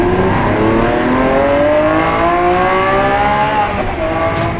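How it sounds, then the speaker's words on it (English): A Lamborghini Aventador SVJ's V12 engine accelerates hard, loud and close, its pitch climbing steadily through the gears with a brief dip near the end, continuous and without talk. "They're proud with their V12 and they say it provides an incredible sound."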